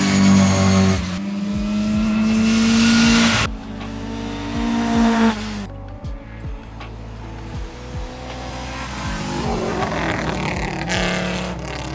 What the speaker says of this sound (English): There you have the 10 valve coupe Quattro